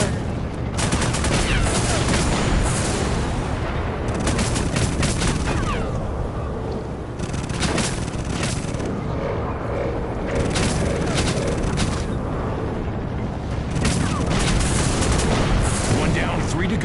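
Grenade blasts and gunfire in the video game Rogue Trooper Redux, a dense, continuous barrage of booming explosions and rapid shots running throughout, with heavier bursts near the start and end, with voices speaking over the battle.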